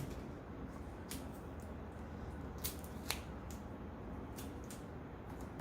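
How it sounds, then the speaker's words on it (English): Scissors snip through tape in a quiet room, several crisp, sharp cuts spaced irregularly over a faint steady background hiss. "I'm going to put a little bit of tape on this"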